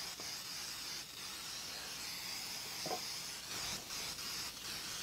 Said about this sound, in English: you can use this floured spray is what I like to use